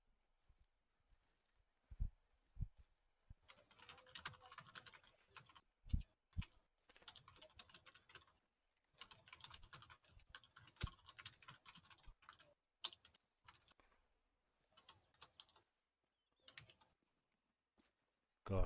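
Close, crisp typing on a computer keyboard during an online multiplayer game session, coming in uneven bursts of rapid clicks separated by short pauses, with no talking.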